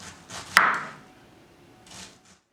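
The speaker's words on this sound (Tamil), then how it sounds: "அதுக்காக நல்லா மெலிசாக வெட்டணும்" A knife slicing thin pieces of pineapple, with one sharp cutting crack and a few soft scraping cuts on a board, close and isolated in a quiet room.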